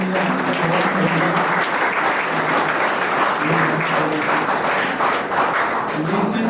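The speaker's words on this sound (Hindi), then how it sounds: "मैं जोरदार ताली बजा करके अभिनंदन करता हूं" Loud, sustained applause from an assembled audience honouring a leader at an employment-focused education event in Jaipur, dense clapping filling the whole stretch with faint voices mixed in.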